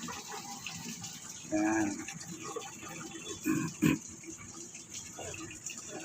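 Tap water runs through a hose into a Whirlpool LSP880GP top-load washing machine with a faint, steady rush, broken by a few short voiced sounds and soft bumps.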